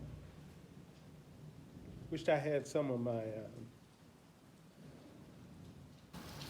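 Steady rain and low rumbling thunder on a rainy day in the Gambia, heard close and fairly quiet, with a voice briefly talking over it partway through.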